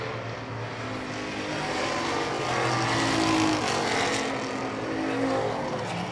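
Race cars lap the Portland street-stock track in a continuous, roaring drone of engines. The sound swells and fades as cars pass, heard from a distance across the circuit.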